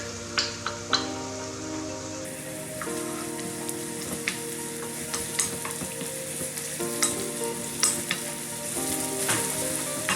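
Carrots and capsicum stir-fried in a pan, a steady close sizzle with frequent clacks and scrapes of the spatula mixing, continuous throughout with no voices.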